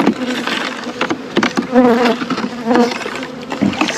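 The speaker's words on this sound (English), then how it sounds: "And there's bees all over trying to feed." Honey bees swarm and buzz around a hive sugar-syrup feeder outdoors, a steady close droning hum with shifting pitch and swelling bursts as insects pass near, no voices present.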